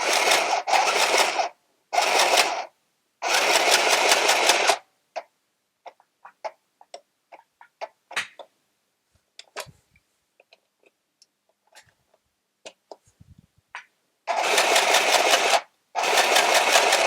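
A mini sewing machine stitches quilting cotton in loud, close bursts of rapid mechanical whirring. Three bursts open the sequence, followed by a quiet stretch of scattered small clicks and taps, before two more bursts of stitching at the end.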